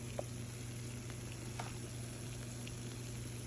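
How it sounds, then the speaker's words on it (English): Pork chops sizzle in a pan, giving off a steady, even hiss of frying with faint crackles and no talking. "Can you hear the sizzle?"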